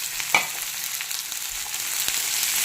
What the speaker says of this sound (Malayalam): അപ്പം ഞാൻ കടുകൊക്കെ മൂപ്പിച്ച് സവോള വഴറ്റിയെടുത്തു.